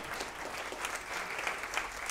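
An audience applauds at a live concert at Le Télégraphe, a dense, steady wash of clapping at moderate volume lasting a couple of seconds.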